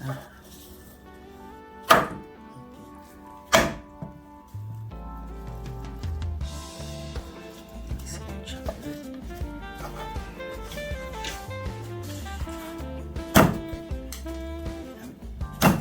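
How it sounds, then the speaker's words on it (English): A knife chops cooked meat for Jamaican stew peas, giving a few sharp, widely spaced knocks on a board over a steady background of voices and room sound. "I'm gonna cut up the meat small."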